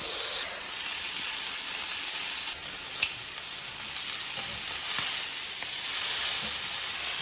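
Flank steak sears in a hot cast iron pan, giving a loud, continuous sizzling hiss with light spattering and a couple of sharp clicks partway through. No one speaks over it.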